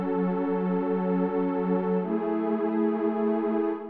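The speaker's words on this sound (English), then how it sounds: "I added the PWM soft pad by Xenology, which without any effects sounds like this." Xenology PWM soft pad synth played dry without effects, a warm sustained chord held steadily and changing once partway through, smooth and even, with nothing else audible.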